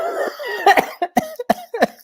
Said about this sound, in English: I was coughing right now